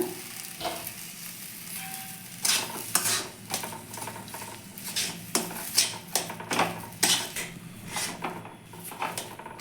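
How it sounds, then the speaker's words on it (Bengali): Mashed potato being mixed with chopped coriander leaves in a pan, giving repeated scraping and stirring strokes with faint clinks and a soft sizzle underneath, close and fairly quiet. "এবার আলুটার মধ্যে ভালো করে মিশিয়ে নেব এবার এর মধ্যে দিয়ে নিচ্ছি কুচানো ধনে পাতা"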